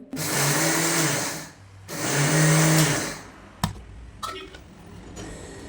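A mixer grinder pulses on peanuts and black sesame in two loud whirring bursts of about a second and a half each. Several sharp knocks and clatters follow as the jar is handled.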